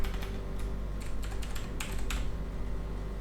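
Rapid clicking of computer keyboard keys as text is typed into a landing page editor, close and continuous with short bursts and brief pauses, no talking.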